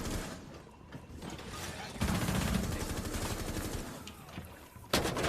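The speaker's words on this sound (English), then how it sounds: "Shot Legion through the wall." Bursts of rapid gunfire from a first-person shooter video game, loud and dense, with mechanical clatter and a sharp shot near the end.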